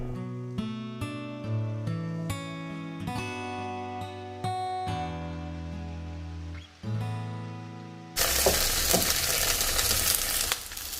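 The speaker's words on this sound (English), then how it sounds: "Take a pan, add oil, 2 tablespoons of oil, spread it and add okra mince." Minced okra frying in about two tablespoons of oil in a pan, heard under steady background music, with the sizzle rising into a loud, broad hiss for the last few seconds.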